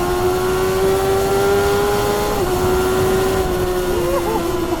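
A Kawasaki ZX-10R inline four-cylinder sport bike on a race circuit holds a loud, steady high-rev howl, its pitch dipping briefly and climbing again through gear changes near the end.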